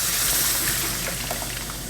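Milk is poured into a spice and roux mixture for homemade mac and cheese, a short close steady trickle of liquid with no talking.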